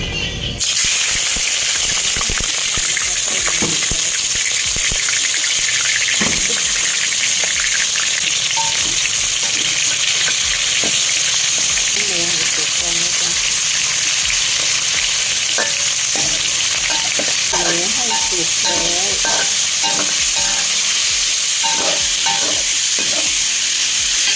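Cucumber, pork and egg stir-frying in a pan, with a steady loud sizzle throughout and frequent scraping and stirring clinks from a utensil against the pan, and no talking.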